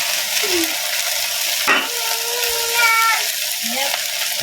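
Chicken pieces stirred and browning in a frying pan for rice porridge, a steady broadband sizzle running throughout with scraping utensil sounds and brief tonal squeaks, alone with no voices.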